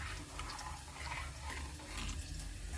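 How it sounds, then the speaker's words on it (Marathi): Hot water pours into a pot of cooked dal, a soft continuous splashing and gurgling stream heard up close with no talking. "याच्यामध्ये आपण गरम पाणी घालूया"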